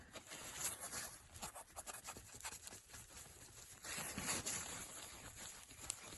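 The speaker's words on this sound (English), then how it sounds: "Rub that with a bit of brake cleaner again, and same getting the residue off the bearing cap." Rubbing and scraping with a rag and brake cleaner to clear residue from a crankshaft bearing cap on a Rootes 1725 cc engine, a steady close, quiet scratchy friction with irregular strokes throughout.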